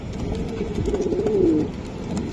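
Pigeons coo at a Pakistani pigeon seller's stall, including racer, gola, teddy, Lahori and giribaz breeds: a single soft, low rolling coo swells and fades over busy background murmur.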